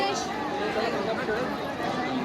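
Sunday crowd thronging the Ekvira Devi temple, a continuous murmur of overlapping voices and shuffling movement filling the space at an even, busy level.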